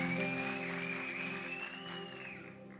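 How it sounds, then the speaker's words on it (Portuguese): Church congregation applauding Jesus during a Portuguese-language service, a soft even clapping wash under sustained musical tones, fairly faint and steady. "Você pode aplaudir a Jesus?"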